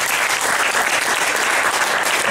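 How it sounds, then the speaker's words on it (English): A conference audience applauds a contestant panel, a dense, steady burst of clapping that stays loud and even for its whole length with no voices over it. "We give our contestants, our panel, a round of applause here."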